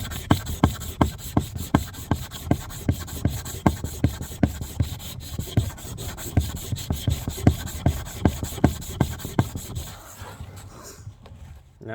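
A steel axe blade is worked by hand against a sharpening stone in steady, rhythmic rasping strokes, each one a short scrape, close and fairly loud, continuing for most of the stretch before stopping near the end.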